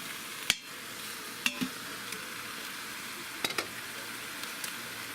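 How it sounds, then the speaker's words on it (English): Beef brisket browning in an Instant Pot gives a low, steady sizzle throughout, with a few sharp clinks and scrapes from turning the meat. "I'm gonna flip the brisket over and we're gonna brown up"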